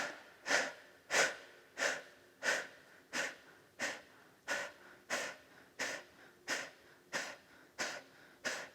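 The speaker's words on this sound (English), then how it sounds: "breathing out through the mouth" Deep mouth exhalations in a yoga breathing round, about a dozen forceful breathy puffs in a steady, even rhythm, close and clear with short quiet gaps between.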